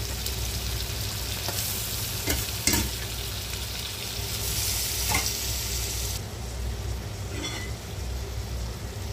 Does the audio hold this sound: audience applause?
no